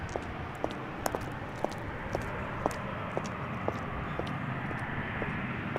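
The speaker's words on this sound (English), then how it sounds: "this is KLM flight 1724, arriving from Brussels" A 13-year-old KLM airliner, first flown in March 2010, arrives at Amsterdam Schiphol from Brussels as a steady broad roar with small regular clicks ticking over it, with no voices.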